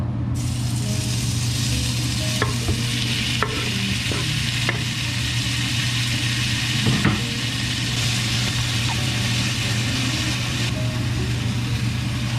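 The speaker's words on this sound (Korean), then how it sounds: "일단 포도씨를 좀 두르고요 반풍기를 좀 켜겠습니다 그리고 김치가 들어갑니다" Loud, steady sizzling of kimchi frying in grapeseed oil in a pan, with occasional clicks and scrapes of stirring, no talking.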